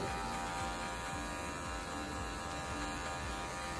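Electric hair clippers fitted with a 1.5 guard, cutting hair during a tape fade haircut: a low, steady buzz with a faint hum, close by and quiet, with no talking.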